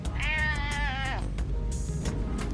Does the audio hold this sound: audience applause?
no